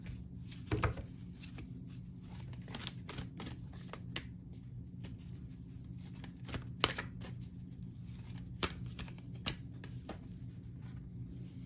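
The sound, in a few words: shuffling and pulling an oracle card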